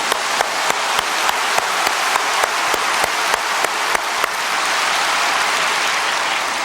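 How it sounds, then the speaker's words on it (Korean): A church congregation claps together in a steady, loud unison rhythm of sharp beats, then breaks into dense continuous applause that fills the room. "아예 한번 힘차게 박수 칩시다"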